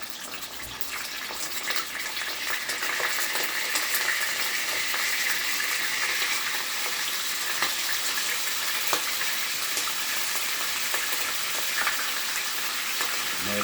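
Silver bass fish frying in a hot pan, a dense, even sizzle and crackle that holds steady throughout with occasional small pops.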